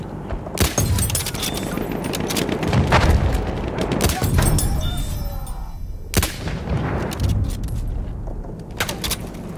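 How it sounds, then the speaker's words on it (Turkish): Machine gun fire in the World War I shooter Battlefield 1: sharp bursts and single loud cracks punctuate a rumbling battlefield din of distant booms, heavy and continuous, with a few isolated shots standing out. "Orada bir makinalı tüfek var."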